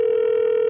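A steady, unbroken telephone dial tone hums loud and close while a call is placed to a caller in a comedy show setting, with no other sound.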